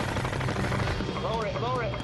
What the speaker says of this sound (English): As I'm firing the M240, the spray, the burst, it was just awesome.